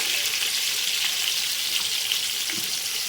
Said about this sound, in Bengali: নুন দিয়ে আলুটাকে ভালো করে ভেজে নিয়ে ফিরে আসছি